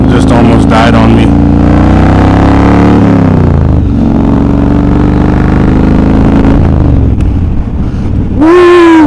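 The 1600cc engine of a Yamaha Roadstar cruiser motorcycle runs on choke and nearly stalls, rumbling loud and close as it rises and falls in pitch, with a sharp rising whine near the end.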